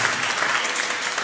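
Dense, steady applause from a large church congregation, loud and continuous with no voices breaking through.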